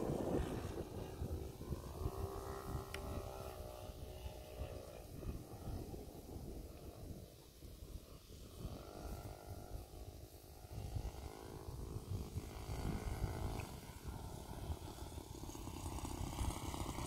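A Carl Goldberg Super Chipmunk model airplane comes in to land, its engine a faint distant drone that rises and falls slightly over wind and outdoor background noise.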